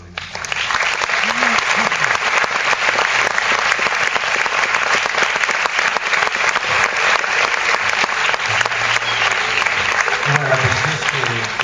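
A concert audience at a show gives a guitarist a long, loud burst of applause, dense clapping sustained for over ten seconds, with a voice speaking faintly over it near the end.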